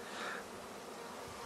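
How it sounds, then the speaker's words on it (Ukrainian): Honey bees buzzing around the hives of a young keeper's apiary of over a hundred colonies, a steady dense hum with no voices, holding at an even level for the whole short stretch. "Ось його бджолосім'ї."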